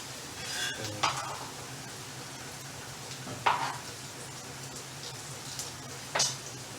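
Onion added to garlic frying in a pan gives a low, steady sizzle, with a few sharp spatters and crackles popping up now and then.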